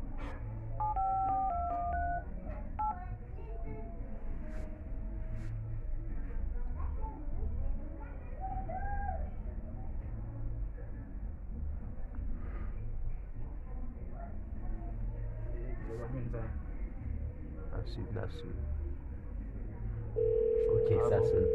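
Telephone keypad tones beep in a quick burst as a number is dialed, followed by a soft steady ringing tone near the end, with people chatting quietly throughout.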